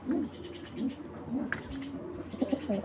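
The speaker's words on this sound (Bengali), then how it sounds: "দর্শক এখানে এক জায়গায় দেখতে পাচ্ছেন টাইগার গ্রিজেল, মাশাআল্লাহ ক্লাবের কবুতর।" Club racing pigeons, including tiger grizzle birds, coo in low repeated murmurs at close range, with soft chatter of other birds and faint background noise around them.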